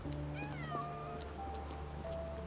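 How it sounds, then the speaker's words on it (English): A cat meows in a video game, a few short rising and falling cries standing out faintly over a quiet background hum. "Oh my god, there's a cat."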